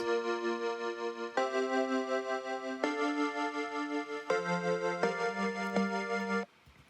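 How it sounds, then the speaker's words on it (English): A digital piano plays a slow series of sustained chords, each ringing into the next, with no voices. It ends with a sudden cutoff. "So I found this digital piano from Silent."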